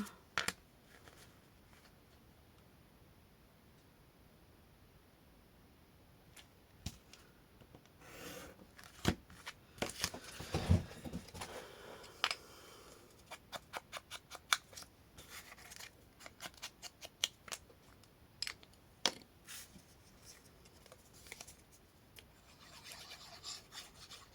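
Paper being cut with scissors around a traced outline for a small Tic Tac ribbon box, soft close snips starting sparse and then coming in a quick irregular run, with light rubbing sounds and no speech.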